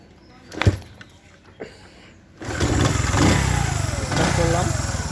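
A used Honda CD 70 motorcycle has a couple of knocks and starting sounds, then the small single-cylinder engine catches and runs steadily, loud and close, with a faint warble of revs.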